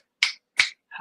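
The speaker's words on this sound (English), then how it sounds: "I'm snapping my fingers at him" Fingers snap three times in quick succession, sharp and close, each crack short and crisp with brief silence between; no talking.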